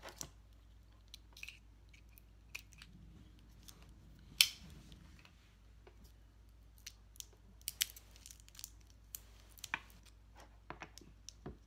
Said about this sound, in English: take the rods out of the tape